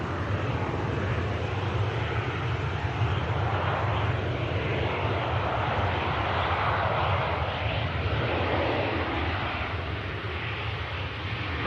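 A Lufthansa airliner arriving from Frankfurt lands at Manchester Airport with thrust reversers deployed, producing a loud, sustained engine roar that holds steady for several seconds and stays close.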